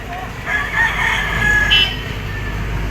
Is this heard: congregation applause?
no